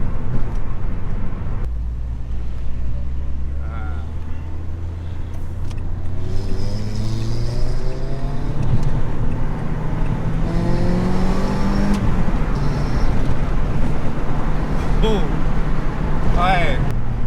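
Renault Clio 172 Trophy engine pulling hard and revving, pitch climbing and falling through gear changes, loud and close from inside the car on twisty roads with corners and roundabouts, a voice briefly over it.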